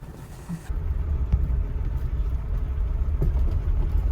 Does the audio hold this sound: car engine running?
yes